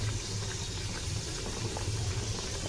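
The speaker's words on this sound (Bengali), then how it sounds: "এবার আমি ফটাফট ওকে ভেজে নেবো সুন্দর করে।" Naan puri deep-frying in hot oil gives off a steady, close, continuous bubbling sizzle that holds an even level throughout, with no voices.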